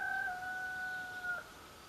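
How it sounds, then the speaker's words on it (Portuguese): A rooster crows once in the distance, a faint, drawn-out tonal call lasting well over a second over a steady background hiss, with no talking. "O galo canta"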